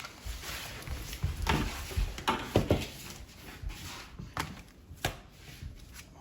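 Big scoops of quartz glass tile grout are dug and dumped in a series of gritty, crunchy scrapes and thuds, fairly close and irregular, with no talk over them.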